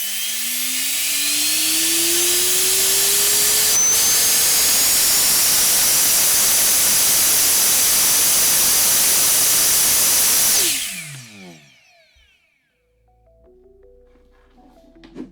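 A 3D printed lime resin turbine spins up to maximum RPM and holds there, giving a loud, steady high-pitched whir with a slowly rising tone for about ten seconds before it cuts off abruptly into near silence.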